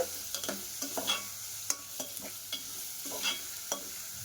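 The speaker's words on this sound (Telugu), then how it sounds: "మనకి ఆనియన్స్ అయితే బాగా వేపుకోవాలండి ఇలాగా" Onions frying for aloo kurma sizzle steadily in a pan while a spoon stirs them, scraping and tapping at an irregular rhythm, close and alone with no talk.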